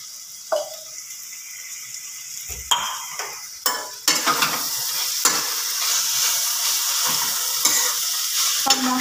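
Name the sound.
stirring soya chunks rice with spices in a pan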